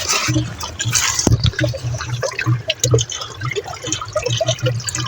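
Spring water bubbling up from the ground among stones, a gurgling, dripping trickle with uneven pulses, close by, while someone talks over it.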